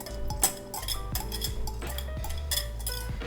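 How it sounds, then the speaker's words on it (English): Brown sugar and melted butter being whisked in a bowl, with repeated light clinks and scrapes of the whisk against the sides, steady and close. "we're going to start off with just mixing together some brown sugar and some melted butter"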